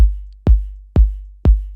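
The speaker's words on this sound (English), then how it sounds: "I like to start off with the kick." A layered electronic kick drum in a downtempo orchestral style hits four times at an even pulse, each punchy click-topped thump decaying into a deep sustained boom; loud, close and alone.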